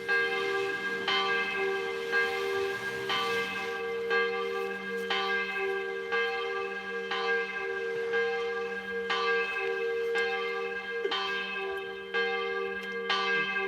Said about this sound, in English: There is no stopping the bell.